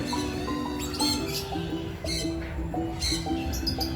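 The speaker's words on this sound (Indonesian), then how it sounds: "Itu burung, Dek." Birds squawking and chirping at an animal park, repeated harsh calls and tweets, moderately close and continuous over steady background noise with some children's voices.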